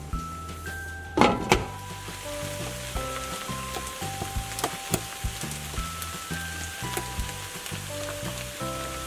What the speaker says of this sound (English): It's more about sweating it gently and cooking it out nicely.